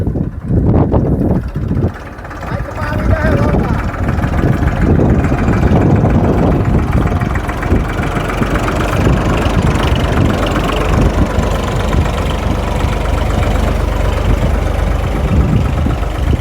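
A tractor engine idles loudly and close by on a farm, a steady low chugging rumble that continues unbroken throughout, with no voices over it.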